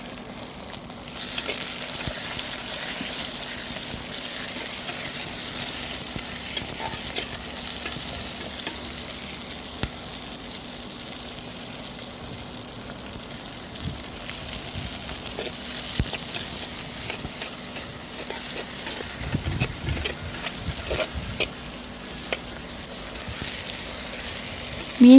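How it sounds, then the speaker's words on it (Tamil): Shallots and onions sauté in oil for a koduva fish curry, making a loud, continuous sizzling hiss with scattered stirring clicks throughout, close up and without speech. "சின்ன வெங்காயம், பெரிய வெங்காயம் போட்டு நல்லா வதக்குங்க."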